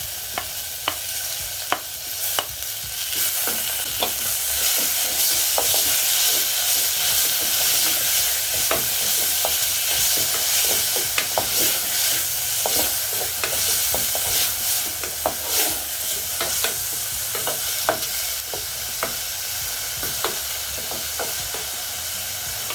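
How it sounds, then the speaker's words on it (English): Garlic and tomatoes fry in a hot pan for an omena dish, giving a steady, close sizzle with crackling pops and occasional stirring scrapes throughout, no voices. "I'll go in with my garlic. Then I'm also going to go in with my tomatoes."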